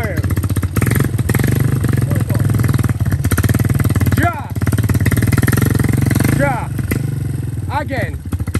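Stuck motorcycle outdoors with its engine revving hard in a loud, choppy, pulsing roar, several throttle surges rising and falling while people shout and talk over it.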